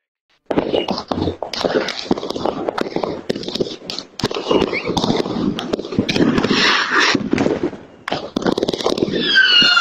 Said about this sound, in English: There's so many videos of these fireworks exploding close to the ground